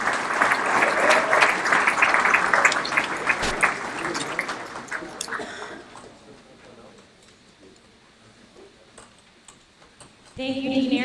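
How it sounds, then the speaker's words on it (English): Sustained applause from an audience at a scholar-athlete awards ceremony, a dense wash of clapping that fades to quieter room tone before a voice starts speaking near the end. "Let's give a big round of applause for our 2018 scholar"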